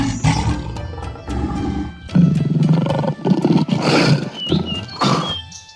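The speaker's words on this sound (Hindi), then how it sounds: "तभी झाड़ियों से राजा बाघ की दहाड़ सुनाई दी।" A tiger roars from bushes in a jungle setting, several loud close rumbling growls and roars in succession with no talk.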